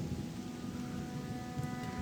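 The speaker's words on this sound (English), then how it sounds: "I really love just how nice the rain sounds." Steady rain in the Gothic 2 video game world, a continuous soft hiss of falling drops with a low rumbling undertone, even and unbroken throughout.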